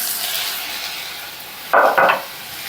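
Okra curry with tomato pieces sizzles steadily in a pan, broken by two quick scraping stirs near the end.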